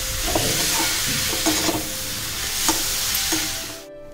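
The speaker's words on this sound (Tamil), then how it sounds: "நெக்ஸ்ட்டு நம்ம வடிகட்டி வச்சுருக்க அவல் இதில் ஆட் பண்ணிக்கிறேன். நல்லா கிண்டிக்குங்க." Drained poha stirred in a frying pan with a spoon, steady sizzling broken by several scraping, clattering strokes against the pan, close and fairly loud, ending abruptly.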